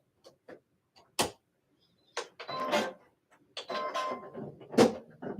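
A home sewing machine stitching fabric for shirt samples, starting with a few faint ticks and clicks, then short whirring bursts of stitching that stop and start.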